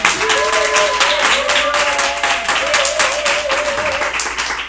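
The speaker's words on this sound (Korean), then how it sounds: "하나님께 영광의 박수 올려드리겠습니다" A congregation applauds during a worship service at a Korean church in Los Angeles: sustained, close clapping with a soft held musical tone running underneath, tapering slightly toward the end.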